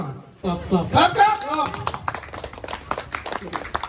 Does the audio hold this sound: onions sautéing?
no